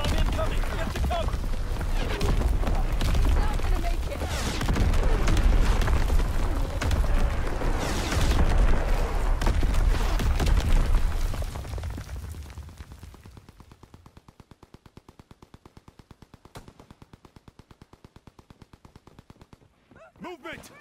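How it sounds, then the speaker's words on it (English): Division artillery firing in a video game: a long, loud stretch of booming and rumbling barrage that fades after about twelve seconds into quieter rapid ticking. "Firing division artillery."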